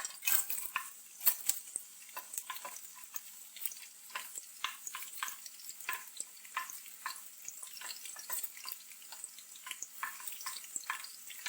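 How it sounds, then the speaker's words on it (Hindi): Onions frying in hot oil for matar pulao, a faint, crackly sizzle of many quick pops and spits, fairly soft and continuous with no talking. "इसको थोड़ा सा गर्म करते हैं और प्याज इसमें फ्राई करते हैं"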